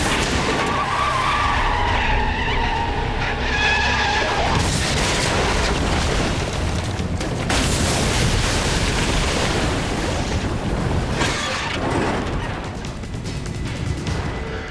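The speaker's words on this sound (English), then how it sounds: "So he meets this young Clark Kent because he hits him with his car at 60 miles an hour in a Porsche, and Clark Kent saves his life" A Porsche skidding at speed as it strikes someone, a long, loud tire screech blended with a roaring engine and heavy impact noise that sweeps and surges across the whole stretch.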